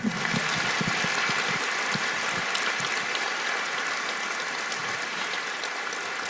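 Sustained audience applause at a talk event honoring Bill Gates on progress in Africa, dense steady clapping filling the whole stretch at an even level with no voices over it.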